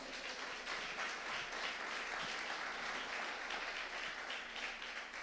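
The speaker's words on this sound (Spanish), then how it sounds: "¿Cuánto le da un aplauso fuerte al Señor?" Applause from a church congregation during a Sunday family-day service, a steady, even wash of many hands clapping at a fairly low level, with no one speaking over it.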